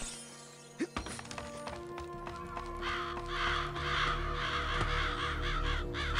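Crows caw in the Psychonauts video game, several harsh repeated calls over an ambient game soundscape after a couple of sharp impacts, with a steady background hum.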